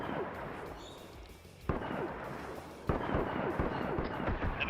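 Gunfire in a Star Wars military video game operation: sharp shots crack over a dense battle din, with two loud reports standing out among scattered distant bursts.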